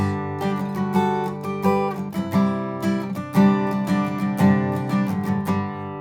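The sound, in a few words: acoustic guitar chord variation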